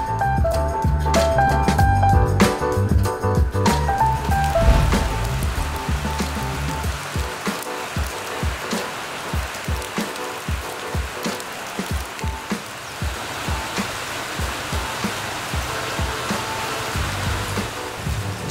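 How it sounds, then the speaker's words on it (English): Steady rain pours down outside a petrol station on Tuba Island, Langkawi, a dense, even hiss with close drips and splashes throughout, loudest early and continuing without speech. "Started raining, we just took cover on the petrol station"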